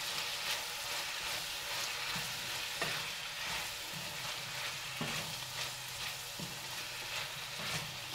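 Pasta with black pepper fries in a pan, giving a soft, steady sizzle with occasional scraping stirs and light clatter, close and fairly quiet, with no talking.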